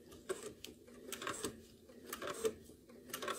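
Domestic sewing machine running at its slowest speed during free-motion quilting, giving a faint, uneven patter of separate needle clicks with small taps and rattles between them, close up and alone.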